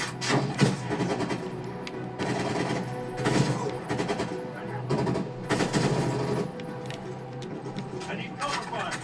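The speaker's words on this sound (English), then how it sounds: "They're shooting at us!" Rapid automatic gunfire from the Call of Duty Cold War video game, with repeated bursts of machine-gun fire rattling close by beneath frantic shouting voices.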